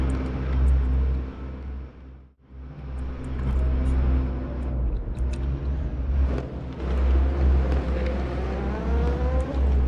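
Race cars lapping Bathurst in a racing video game, with a loud, continuous engine drone and rumble that dips briefly, then swells back as the cars keep running.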